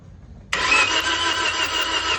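Engine of a Toyota Vios cranking with no compression, a steady loud whirring drone that starts abruptly and runs evenly without firing or catching.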